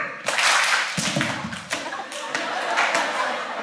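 A group of high school seniors performs a coordinated panther clap during a skit, with sharp collective claps and thuds that ring out over loose crowd noise and voices.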